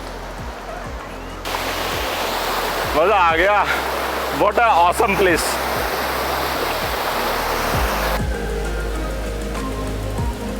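Rushing water of the Saat Dhara waterfalls on the Indravati river, a loud constant roar filling the whole scene close up, with people talking excitedly over it partway through.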